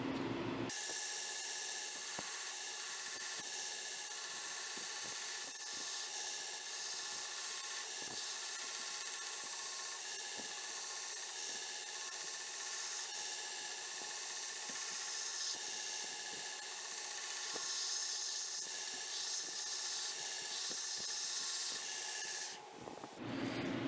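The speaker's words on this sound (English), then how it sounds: "let's get on the grinder and grind this profile in" Bench grinder shaping the profile of a knife blade made from coil spring steel, a continuous loud high-pitched grinding hiss held steadily for over twenty seconds, with small pulses as the steel is pressed against the belt.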